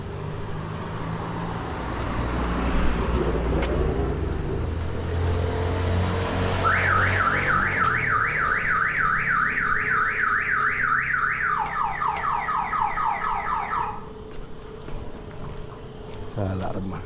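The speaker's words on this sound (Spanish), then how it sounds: "Esas alarmas hacen una gran bulla" Several car alarms sound outdoors on a street in the Don Bosco area, a rapid warbling siren pattern repeating loudly over steady traffic noise, then shifting pitch before cutting off.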